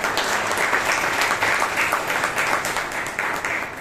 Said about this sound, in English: Can you give a round of applause